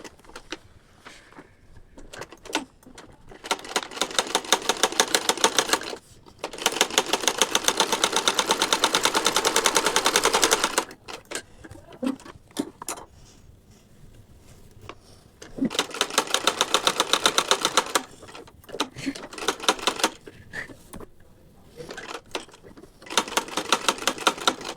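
A sewing machine runs a straight stitch on fabric in several long bursts of rapid, even mechanical chatter, separated by pauses with softer handling sounds between runs.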